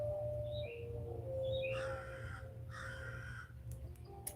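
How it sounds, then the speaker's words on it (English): A crow caws outdoors several times, harsh calls in short bursts standing out over a steady low hum and a faint tonal whine. "Oh, you hear that, crow?"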